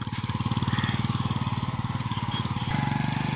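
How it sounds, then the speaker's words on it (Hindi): A motorcycle carrying fodder on a village road putters rhythmically nearby, a steady pulsing thrum that holds close for a few seconds with no voices. "मोटरसाइकिल पे चारा लेके जा रहे हैं"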